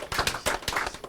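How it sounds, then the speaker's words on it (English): Hands clapping for a guest on a lively call-in programme, a quick steady run of about a dozen close, loud claps heard on their own. "I'm going to clap for her again"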